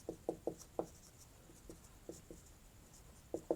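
Chalk or marker strokes on a board during a maths lesson on ellipses, a series of short separate taps and scratches in irregular bursts, fairly close and quiet against a faint room hiss.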